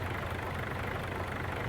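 A tractor engine idles steadily in Farming Simulator 22, a continuous low, even rumble with no break, close and moderately loud, no voices over it.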